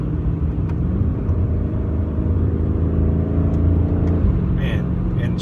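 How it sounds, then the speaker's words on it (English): A 2018 BMW M5 F90 in manual mode accelerates with a steady, loud engine drone that climbs in pitch, then drops abruptly at an instant gear shift before pulling again, heard from inside the cabin. "Shifts are instant. And at these speeds, the shifts are surprisingly smooth."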